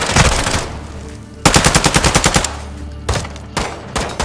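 Bursts of rapid automatic gunfire in Call of Duty: Modern Warfare II, loud and close, coming in rapid rhythmic volleys with short pauses and a few single shots near the end.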